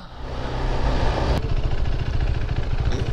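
A 2017 KTM RC390 motorcycle engine idles quietly and steadily, a low even thrum with a brief sharp click partway through, no voices over it.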